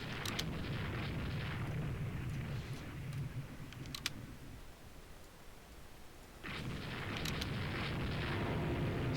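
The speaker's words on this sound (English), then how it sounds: "They just scored a bomb hit on the Kalinin" A bomb striking a battleship in the naval strategy game Rule the Waves 2: a deep rumbling blast with a long rolling roar, a second heavy surge after a quieter lull, loud and without talk.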